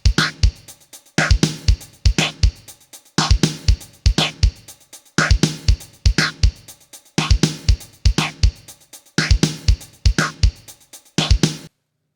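A Yamaha RX11 digital drum machine from the 1980s plays a looping pattern through a guitar preset instead of drum sounds, giving steady repeating bars of bright, plucked hits in a tight rhythm with no talking over them.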